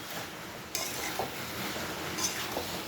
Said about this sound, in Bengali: পটলটাকে দিয়ে আমি ভালো করে মিশিয়ে নেবো, একদম সুন্দর করে মশলার সঙ্গে মিশিয়ে নেব।